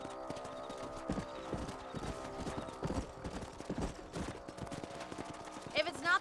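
Horses trot in Red Dead Redemption, a brisk irregular clip-clop of hooves up close, with tonal game ambience underneath and a brief sharp burst near the end.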